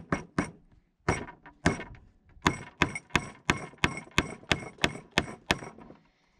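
Wooden peg driven into a hole with a hammer during barn woodworking, a run of about fifteen sharp, loud hammer knocks, sparse at first then quickening into a steady rhythm, close up with no talking.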